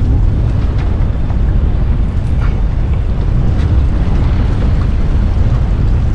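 Strong wind buffets a small fishing boat at night on Tampa Bay, a loud, steady broadband roar of gusts hitting the microphone that continues without a break and with no talking.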